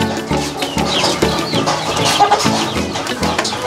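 Chickens on a Vietnamese poultry farm cluck in dense, overlapping bursts, several birds close by with a steady busy chatter throughout.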